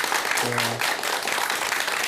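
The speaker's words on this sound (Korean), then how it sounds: "다시 한번 박수 부탁드리겠습니다." Steady applause from a crowd, dense clapping that carries evenly throughout, with a brief voice sounding underneath early on.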